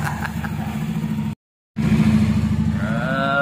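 A newly repaired engine runs at a steady idle with a throbbing low pulse, cutting out briefly and then picking back up again, loud and close.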